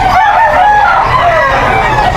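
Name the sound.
rooster crowing at Bocaue pet market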